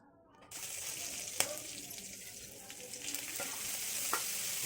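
Cumin seeds sautéing in a little oil, a steady sizzle starting abruptly after a quiet moment, with occasional light clicks of stirring under it.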